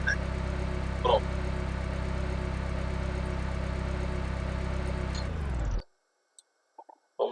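A car engine idles in a steady, even hum for about five seconds, then shuts off and drops to silence, followed by a few faint small clicks and handling noises.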